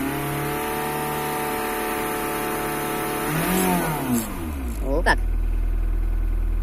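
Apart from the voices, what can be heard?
Ford Mondeo TDCi 2.0 diesel engine revving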